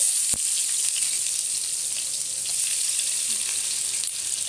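Onions fry in hot oil with mustard seeds and cumin, a steady bright hiss of sizzling at close range with a single sharp pop near the start.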